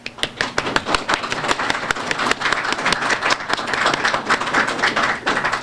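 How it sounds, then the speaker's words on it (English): Audience applause for the judges at a library poetry awards event, a moderately close, busy patter of many hands clapping steadily throughout. "Let's give a round of applause to all of our judges."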